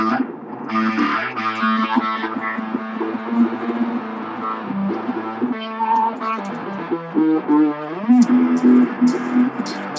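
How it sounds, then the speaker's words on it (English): Distorted, overdriven instrument notes ring out loud and continuous, with sustained gritty tones shifting in pitch and no voices. "we'll add a little distortion to the mix."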